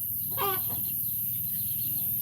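Chickens at a coop let out one short, close cluck early on, then fall quiet under a steady low background hum.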